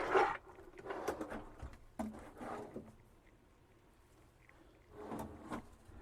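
A solid wood drawer in a 2018 Regency Xalta 2TB Class B camper van is pulled out, giving several close, short wooden slides and knocks spaced over a few seconds in a quiet interior.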